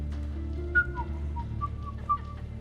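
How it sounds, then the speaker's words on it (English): A character whistles a short, wavering tune in the video game Mass Effect 3, a few thin rising and falling notes over a low background hum. "Are you whistling?"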